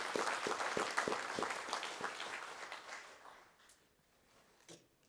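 Applause from an audience at an awards and scholarships ceremony for winners, starting with a few sharp distinct claps close by and thinning out to scattered faint claps before fading away.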